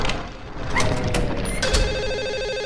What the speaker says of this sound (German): Ja, das Telefon.